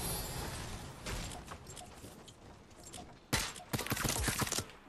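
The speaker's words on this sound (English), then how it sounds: "Who's shooting?" Gunfire in Fortnite Battle Royale, a faint scatter of distant shots that turns into a louder, denser burst of rapid fire near the end, with no voices.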